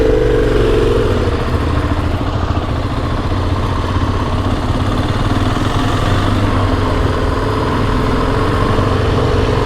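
A 2020 Husqvarna 701 SM motorcycle riding with a loud, steady engine drone and a brief shift in pitch near the start, heard up close and without talk.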